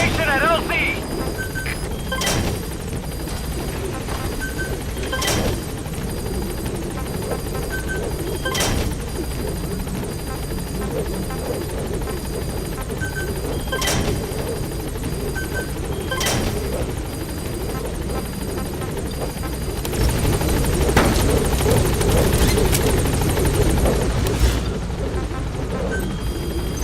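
Pequod's helicopter hovers at a landing zone in Metal Gear Solid V, a steady rotor roar under radio chatter, with sharp impacts and a louder swell of engine noise near the end.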